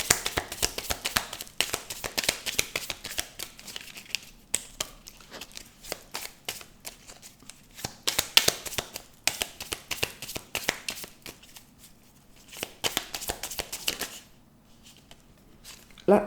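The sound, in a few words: shuffling tarot cards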